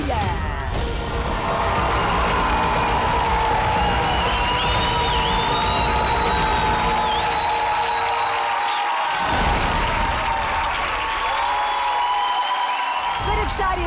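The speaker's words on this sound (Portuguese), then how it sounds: "Um aplauso gigante para a Maria Correia" Audience applause and cheering at a Voice Kids battle round as a young contestant is welcomed on stage, a loud sustained crowd roar with whoops, mixed with music and voices throughout.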